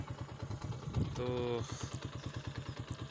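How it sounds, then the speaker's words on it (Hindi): A motorcycle engine idles close by with an even, rapid chugging pulse on a wet road after rain. Someone speaks briefly over it. "बाइक निकाल के"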